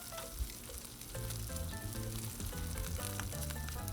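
Bacon sizzles and crackles on a Blackstone 22-inch griddle, a dense, steady frying hiss with small pops, close and fairly loud, with no talking.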